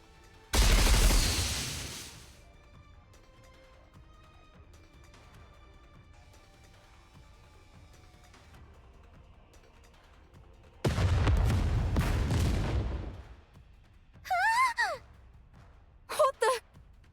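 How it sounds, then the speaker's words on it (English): Missiles fire wildly in a Dragon Ball Legends battle, heard as two long, heavy bursts of roaring booms and blasts separated by a quiet stretch, with brief voiced gasps or effort cries near the end. "The missiles have no homing ability. It's just firing wildly!"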